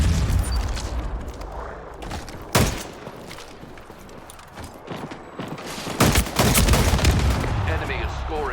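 Carbine gunfire in an arena multiplayer video game, heard as sharp shots and short bursts against a busy mix of game effects, with two especially loud blasts standing out.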